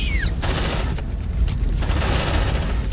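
Gunfire and an automated sentry gun rattle in the sci-fi video game Aliens: Dark Descent, a loud, dense burst of rapid shots that runs without pause over rumbling combat noise.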